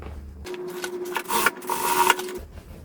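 Sewing machine running a short burst of stitching along a bag seam, a quick mechanical whir that starts and stops within a couple of seconds, close and clear.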